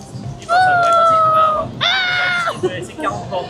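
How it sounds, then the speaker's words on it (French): A cat gives two long, drawn-out meows close by, the second higher and more strained, followed by brief shorter cries, with people talking around it. "Mais non, il y a un chat aussi."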